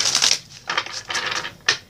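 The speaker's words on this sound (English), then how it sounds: "I need to shuffle some more." A deck of playing cards being shuffled close up, with several quick riffling bursts of crisp papery flutter separated by short pauses, and no talking.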